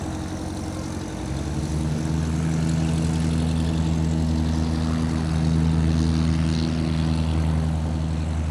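Propeller airplanes at an airfield, engines droning steadily as they taxi, with the throb swelling louder and nearby, a sustained low engine hum with no talk.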